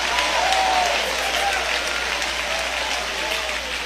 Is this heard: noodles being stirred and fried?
no